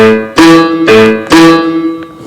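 Three short, detached piano notes sound in a bouncy sequence, each struck crisply and cut off quickly, played loud and close.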